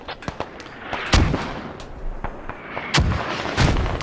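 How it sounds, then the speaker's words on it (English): Mortar rounds landing in the military shooter Squad, a series of sharp, booming impacts at irregular intervals, some near and loud, others more distant, with no talk. "Mortars landing."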